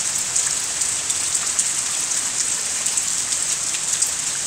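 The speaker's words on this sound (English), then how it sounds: "Cold and nasty and rainy." Steady rain falling on a cold, stormy day, a dense continuous hiss of drops on surfaces with no pauses, fairly close and even in level throughout.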